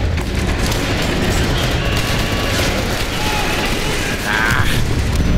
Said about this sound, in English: Chucking in a grenade.